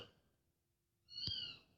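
A cat gives a single short meow partway through, fairly faint against an otherwise quiet background.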